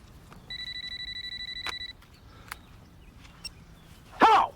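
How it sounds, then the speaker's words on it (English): A telephone rings in two clear electronic trills in a quiet room, followed by a few faint clicks and then a brief burst of voice. "Oh. Phone."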